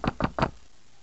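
Three quick raps on a dorm room door, close and distinct, falling in a brisk even rhythm and then giving way to quiet.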